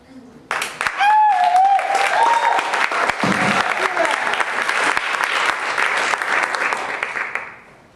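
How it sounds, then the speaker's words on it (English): Audience applause for a spoken-word poetry performance, loud sustained clapping that starts abruptly and carries on evenly before fading near the end, with brief vocal sounds mixed in early. "You guys clapped for me, you guys loved it"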